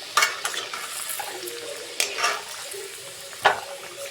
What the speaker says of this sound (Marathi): आता बघा, असं तळून काढायचं.